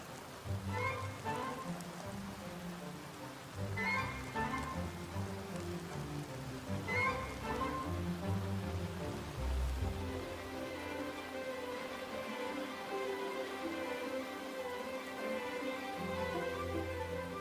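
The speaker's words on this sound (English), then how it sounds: "And boy, did it rain." Heavy rain falls on a hard surface in a garden, a continuous patter with denser bursts of drops, heard alongside soft tonal music.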